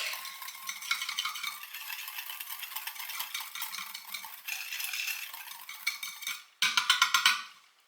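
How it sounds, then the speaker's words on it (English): Pumpkin mixture whisked in a bowl, a steady rapid scraping and rattling close by that runs throughout, ending in a few sharper, louder strokes. "I'm gonna give it a little whisk."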